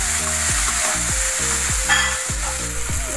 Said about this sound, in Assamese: পিঁয়াজখিনি গলি যোৱালৈকে মই ভাজি থাকিম।